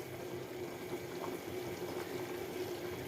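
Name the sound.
curry boiling in a pot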